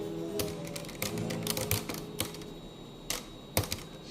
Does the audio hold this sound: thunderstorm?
no